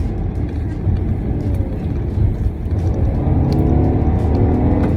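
A 2016 Volkswagen Passat S fitted with a Neuspeed power module drives along with a rumbling engine and road noise that swell as it accelerates; no talking is heard.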